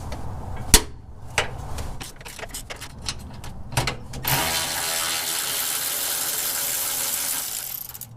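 Close-up hand ratchet on a long 3/8 extension clicks in short irregular bursts while backing out a 12 mm bolt from an off-road gas tank skid, then spins into a fast continuous ratcheting whir.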